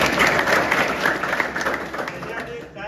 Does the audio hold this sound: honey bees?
no